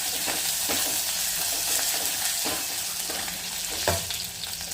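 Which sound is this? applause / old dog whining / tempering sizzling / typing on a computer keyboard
tempering sizzling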